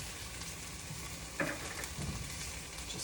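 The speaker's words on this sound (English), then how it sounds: "Just flipping the shrimp over." Shrimp and spinach frying together in a pan give a steady, close sizzle, with a brief louder burst of crackling as the shrimp are flipped.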